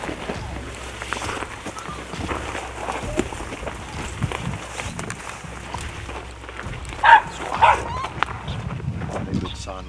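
Hunting dogs bark during a Cape buffalo hunt, several sharp barks and yips rising out of a busy outdoor bed of rustling, footsteps and voices, with two louder bursts near the end.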